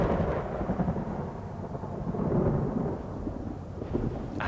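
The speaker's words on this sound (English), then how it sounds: "And showers pour down onto the parched plains." A heavy rain shower pours onto the parched savannah plains at the start of the rainy season, a loud, dense rushing roar with deep rumbling underneath and no voices.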